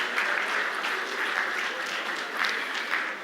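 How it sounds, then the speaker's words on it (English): Sustained audience applause fills the Afreximbank 2025 annual meetings conference hall in honour of the president, a dense, even wash of clapping from a large crowd. "a resounding round of applause for President"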